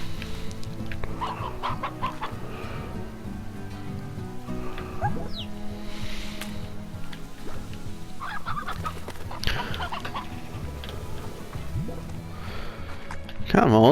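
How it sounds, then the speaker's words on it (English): A Stony Hen from the Slime Rancher video game clucks and squawks in short bursts among other farmyard fowl sounds, with a steady game background under them. "Someone please eat this Stony Hen."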